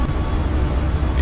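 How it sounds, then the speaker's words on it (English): A Boeing 737 MAX in the iFly flight simulator drones with a steady low engine roar during the climb, continuous and fairly loud with no clear break. "That sounds very much like a 737, doesn't it?"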